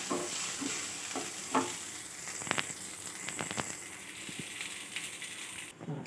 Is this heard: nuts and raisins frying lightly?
yes